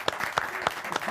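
Studio audience on a Persian talk show applauding a guest, a short burst of clapping with a few sharper claps standing out, moderately loud and steady, with faint talk mixed in.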